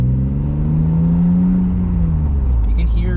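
A BMW M Roadster's engine runs steadily with the top down, producing a loud, close, low droning hum that holds level throughout. A voice briefly joins near the end.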